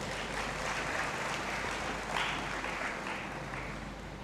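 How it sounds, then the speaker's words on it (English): Graduates at a university congregation ceremony in a large hall receive sustained applause from the crowd, a broad, steady wash of clapping that stays moderately distant and fades slightly toward the end. "A resounding round of applause is well deserved to all of you"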